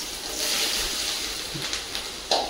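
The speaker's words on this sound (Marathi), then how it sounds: "तेल गरम झालं, दोडका टाकून घेऊया" Sliced ridge gourd dropped into hot oil in a kadhai sends up a loud, close, continuous sizzling hiss with a few brief crackles and pops.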